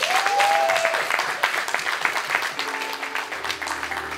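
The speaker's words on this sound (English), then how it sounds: "Please give them another round of applause." Audience applause at a Black Action Defense Committee 30th anniversary event, a steady wash of clapping that gradually thins as a sustained musical tone enters near the end.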